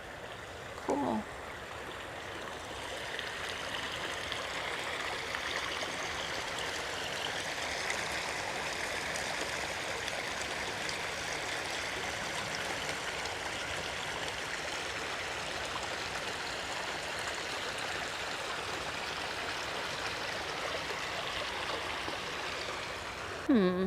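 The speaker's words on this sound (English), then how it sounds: "So I can hear the water and I will be quiet so we could listen." Stream water flowing at the Las Vegas Wetlands, a steady broad rushing trickle heard nearby and continuing evenly throughout, with brief faint bird calls or noises near the start and end.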